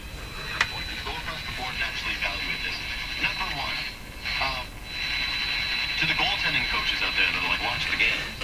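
An Addison 5A tube radio's speaker plays a talking voice with a crackly, tinny tone and steady static hiss underneath, fading briefly in the middle; four capacitors have been replaced.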